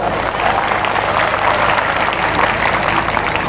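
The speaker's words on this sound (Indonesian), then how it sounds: "Tepuk tangan buat panitia dulu." A church congregation applauding the organising committee, loud dense clapping from a crowd that fills the whole stretch with an even, energetic texture.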